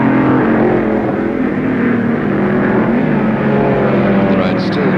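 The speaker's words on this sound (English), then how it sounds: "Punching past the pits at the end of the first lap in the big red Mustang." A big red Ford Mustang touring car roars past the pits at Warwick Farm during a 1973 improved production race on a wet circuit, its engine a loud, continuous blare under a commentator's voice.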